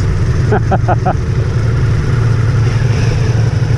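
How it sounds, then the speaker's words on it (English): A Ducati Multistrada V4S's compact V4 motorcycle engine runs steadily and loudly on a rainy test ride in Queensland, Australia, with a few short blips of pitch near the start and a constant rumbling drone throughout. "Very smooth, fast revving engine, isn't it?"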